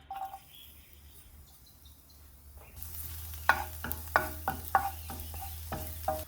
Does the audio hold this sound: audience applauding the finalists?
no